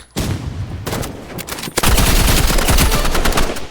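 Gunfire from the Roblox game Rivals: loud, close, rapid shots that rattle on, then a heavier crack and a denser burst of firing.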